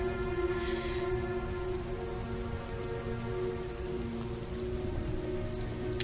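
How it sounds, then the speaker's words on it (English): Steady, even rainfall in the video game Heavy Rain, with a constant close patter of drops on surfaces and no voices, lasting throughout. "This is 2 years later and it's still raining."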